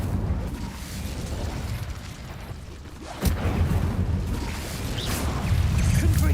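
Incendio fire spell cast in Hogwarts Legacy: a steady roaring rush of fire with a sudden burst partway through, then continuing crackling flames and combat noise, loud and close.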